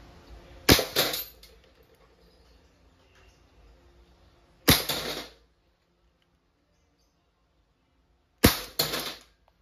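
Umarex Beretta M92FS full-metal .177 air pistol firing: three sharp, loud cracks spaced about four seconds apart, each with a short rattling tail, against near silence.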